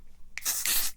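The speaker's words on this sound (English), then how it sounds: "I'm going to spray the setting spray there." Makeup setting spray misted close to the microphone in two bursts, a short puff followed by a longer, loud hiss that cuts off sharply, in a quiet room.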